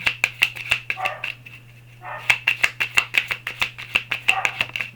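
Rapid, repeated sharp barks from a dog nearby, coming in quick rhythmic bursts with brief pauses, over a constant low hum.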